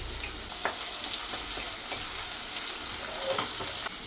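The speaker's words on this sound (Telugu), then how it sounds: "కొంచెం ఫ్రై చేసుకోవాలి." Curry leaves and dried red chillies fry in a hot pan of oil, a steady broad sizzle with occasional brief crackles and pops standing out close by, continuous and unaccompanied by voices.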